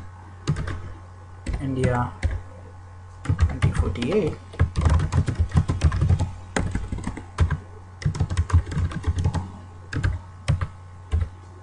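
Rapid bursts of typing on a computer keyboard, close and crisp, as an app name is entered during setup, with clicky keystrokes in uneven clusters and a brief spoken word in between.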